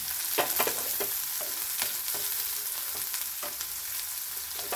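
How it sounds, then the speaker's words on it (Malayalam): Shallots sautéing in hot oil in a pan, a continuous sizzle broken by quick scraping stirs of a spoon, close and clear with no voices. "സവോള ചേർക്കാതെ കൊച്ചുള്ളി ചേർത്തിട്ട് വഴറ്റിയെടുക്കുന്നതാണ് നല്ലത്"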